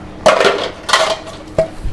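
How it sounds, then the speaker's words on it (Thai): Three metallic clanks as Korean barbecue grill pans are set down onto a drying rack, close and fairly loud, the first two ringing briefly, the last a sharp knock. "ต่อไปก็ขึ้นมาตากบนราวตากกระทะของเราตรงนี้นะครับ"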